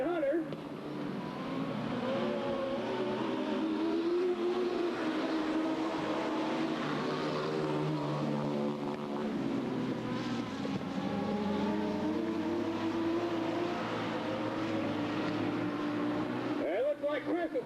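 Sprint cars race around an oval dirt track at Riverside Speedway, engines roaring in a continuous loud drone with shifting pitch as they pass, while an announcer calls the race over them.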